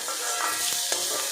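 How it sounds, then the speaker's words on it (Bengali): Pointed gourd (potol) fries in hot oil with a steady, dense sizzle and faint crackle, close and continuous with no talking. "পটলটা কিন্তু আমি বেশ ভালো করে ভেজে নিয়েছি"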